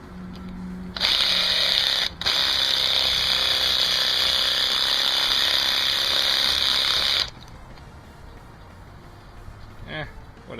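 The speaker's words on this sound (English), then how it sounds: "It's a portable jigsaw on a drill!" A portable jigsaw attachment driven by a drill runs while a knife is being made, a loud, close, high buzzing that starts abruptly, briefly dips, then carries on for about six seconds before cutting off to quieter room noise.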